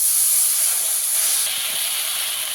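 Frying masala of turmeric and chili powder for a jackfruit and prawn dish hisses loudly and steadily as a splash of water hits the hot pan, close and continuous.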